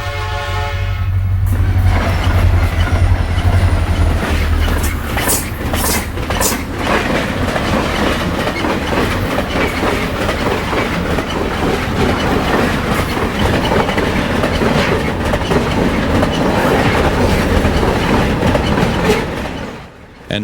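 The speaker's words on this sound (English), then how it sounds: "A trailer train flies by heading eastbound." A Santa Fe trailer train races past eastbound near Lorenzo, loud and close, with a steady rumble and clattering wheels holding for the whole pass before cutting off abruptly at the end.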